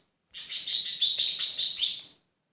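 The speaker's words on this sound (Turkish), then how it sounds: "bu arada yanımda kuşlar var." Small pet birds chirp rapidly and brightly up close, a quick run of high tweets lasting about two seconds.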